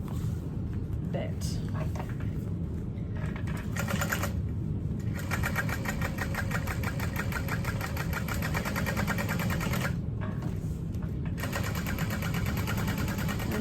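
Sewing machine basting the outer edge of a vinyl barrel bag with binding, running steadily throughout with a fast mechanical whir and rhythmic stitching chatter, briefly pausing twice.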